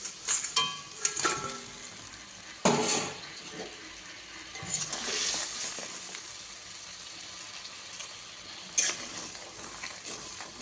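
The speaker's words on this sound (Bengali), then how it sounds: "ঝোলটা ফুটে গেছে, এবার মাছগুলো দিয়ে দেবো।" Fried bhola fish go into a boiling mustard gravy with a sizzle, bubbling and clinks of utensils against the pan, close and busy, with sharp scraping knocks at the start.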